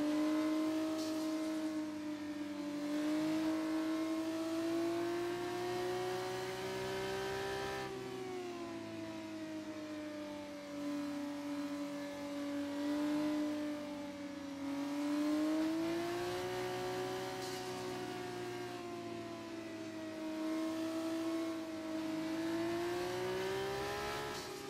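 Formula 2 cars in a racing video game accelerate after a safety car period, a loud continuous engine whine rising and falling in pitch as the revs climb.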